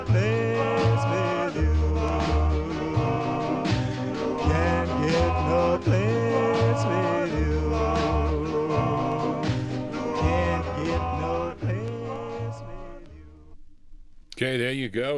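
A 1954 doo-wop 45 on vinyl on G Records plays loud and steady with vocal harmonies and a bass line, ending abruptly near the end before a brief noisy burst.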